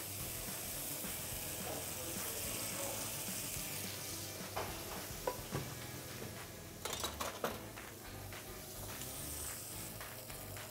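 Halloumi cheese frying in olive oil on a warm pan, a steady close sizzle throughout with occasional clinks and scrapes of utensils, louder clusters of crackle near the end.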